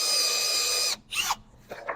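A power drill fitted with a Forstner bit, from a budget Harbor Freight set, bores into wood with a sustained high whine lasting about a second, then stops, followed by a couple of short bursts as the drill spins down and restarts.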